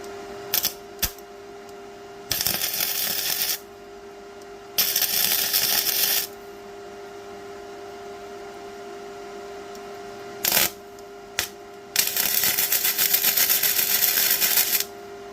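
A Vevor MIG-130 welder tack welds straight through rusty metal: three crackling, hissing arc bursts of a second or more, the last the longest, with a few sharp clicks between them against a faint background hum.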